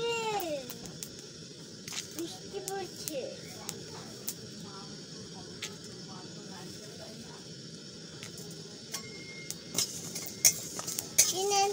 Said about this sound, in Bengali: তো মেথি মৌরিগুলো ভাজা হয়ে গেছে